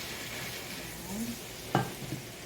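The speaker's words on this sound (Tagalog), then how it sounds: "Mix, mix again." Food frying in a pan is stirred and mixed, a steady sizzle running underneath with soft scraping and one sharp knock of the utensil against the pan near the end.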